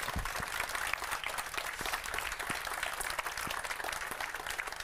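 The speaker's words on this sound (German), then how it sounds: "an dieser Stelle vielleicht nochmal bitte kleinen Applaus für unsere coolen Developer" An audience at a hacker congress talk applauding the developers, with steady, fairly faint clapping from a crowd that holds evenly for several seconds.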